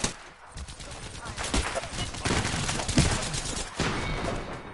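Sustained gunfire in a PS4 video game, dense bursts of shots layered with game noise and a player's voice talking over the fight.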